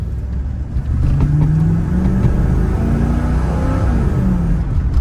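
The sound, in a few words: car engine accelerating wide open throttle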